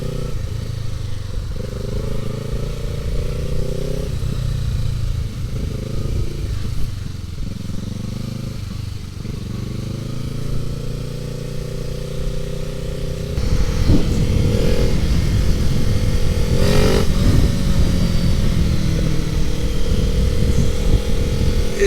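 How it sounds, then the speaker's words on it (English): 2017 Kawasaki Ninja 650 with a very loud aftermarket exhaust being ridden, engine droning and rising through revs, louder and harsher after the midpoint with wind buffeting, close and continuous. "I'm on a Ninja 650 with a very"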